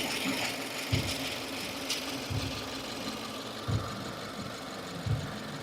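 A 2015 Subaru Forester engine idles with a faint, irregular chatter, soft knocking taps recurring about once a second over a low steady hum.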